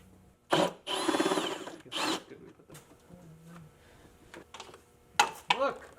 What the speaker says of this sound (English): we're going to go ahead and remove all the 10mm bolts holding the cover over your timing belt